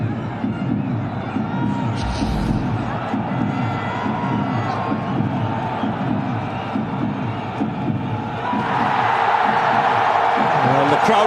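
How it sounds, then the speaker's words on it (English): A large cricket crowd at the 2011 World Cup final between India and Sri Lanka: a constant roaring stadium murmur that swells into louder cheering near the end, with a commentator's voice over it. "And the crowd come to life."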